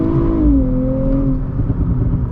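A modified Nissan Z sports car engine accelerates up close, its tone rising briefly and then settling into a steady, loud drone.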